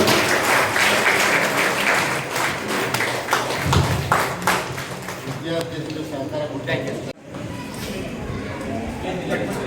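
An audience at a school Guru Purnima honouring ceremony applauds with dense, sustained clapping that thins and becomes more scattered toward the end, loud and close, with voices mixed in beneath.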